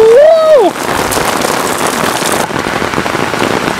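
Heavy rain pours down in a storm, a loud, dense hiss of drops pounding a driveway and nearby surfaces, close and steady throughout, with a brief rising whistle-like tone at the very start.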